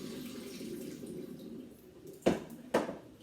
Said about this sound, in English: I covered it with water again and I'm dumping it again.